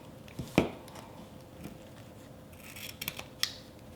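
Scissors snip diagonally through the ends of wired ribbon, a few quiet crisp cuts spaced out over a few seconds with faint handling noise between them.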